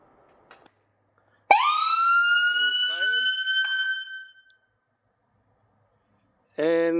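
A Whelen CORE siren system fitted to a 2024 Ford Expedition gives a sharp, loud electronic wail that holds for about three seconds and cuts off, then starts again briefly near the end, with a faint click beforehand.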